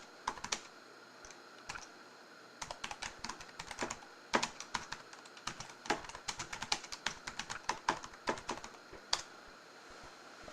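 Rapid typing on a computer keyboard while writing messages in a chat box, an irregular run of close, crisp key clicks in short bursts with brief pauses and no talking.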